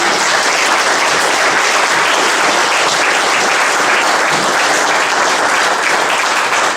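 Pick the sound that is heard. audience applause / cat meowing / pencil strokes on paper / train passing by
audience applause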